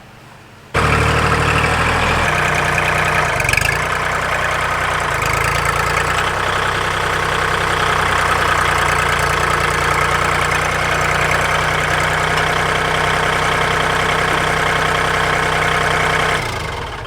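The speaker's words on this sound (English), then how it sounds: "I hear Matt coming though now with the first load of dirt" A tractor engine idles steadily and close by for about sixteen seconds while delivering a load of dirt to fill a raised bed, a constant low rumble with a faint knocking pulse and no talking.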